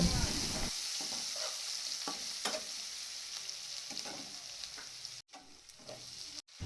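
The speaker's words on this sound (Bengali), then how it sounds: "তারপর ওই পনির ভাজার তেলে রসুন কুচি, আদা কুচি ও বড় বড় করে কেটে রাখা লঙ্কা দিয়ে কিছুক্ষণ ভেজে নেব" Chopped garlic, ginger and large cut chillies fry in the oil left from frying paneer, a steady close sizzle with scattered stirring clicks and two brief dropouts near the end.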